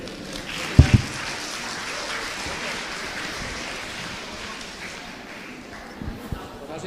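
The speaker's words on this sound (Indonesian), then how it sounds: "boleh kita berikan tepuk tangan sekali lagi untuk pembicara para panelis" Audience applause for the speaker and panelists at a university Q&A event, a steady diffuse clapping wash filling the room, with a couple of louder nearby thumps early on and faint voices underneath.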